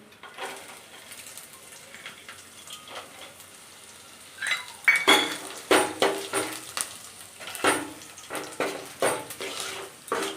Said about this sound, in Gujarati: આવી રીતે સિંગદાણા નાખી અને થોડા હલાવતા રહીએ એટલે સિંગદાણા શેકાઈ જાય